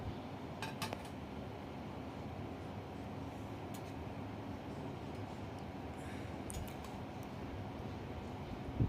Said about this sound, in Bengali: আর এটা ক্রমাগত নাড়তে হবে, নাহলেই ধরে যাওয়ার সম্ভাবনা,